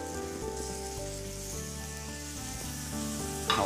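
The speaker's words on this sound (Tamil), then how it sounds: "இப்போ நான் என்ன பண்ணுறேன், இந்த எறா அப்படியே போட்டுறேன்" Prawns sizzling in chilli masala in a pan, a steady, fairly faint frying hiss under tonal background music.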